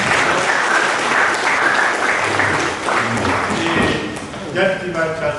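Audience applause at a university scholarship award ceremony in Ibadan, steady and full for about four seconds before thinning, with voices and a few louder nearby claps as it fades.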